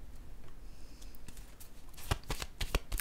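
Tarot cards are shuffled by hand near the mic, soft riffling at first, then a quick run of crisp snapping card flicks.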